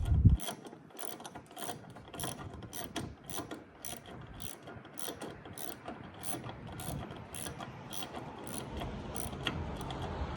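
Close, crisp clicking of a ratchet wrench tightening bolts on a Bronco accessory, a steady run of regular ratchet clicks that continues throughout.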